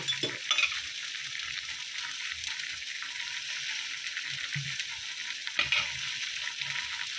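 Fried paneer goes into a hot pan, where it sizzles softly under a low, steady hiss, with a couple of scraping stirs and clinks near the start and again later.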